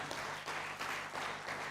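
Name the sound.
audience applause for the keynote speaker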